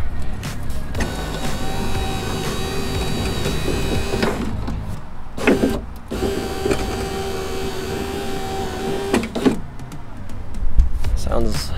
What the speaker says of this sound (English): Sounds like the regulator's working pretty good